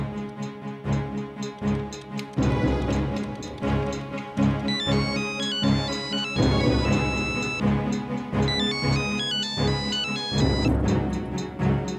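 A musical phone ringtone plays a repeating melody, loud and steady, over a continuous background of instruments for the whole stretch.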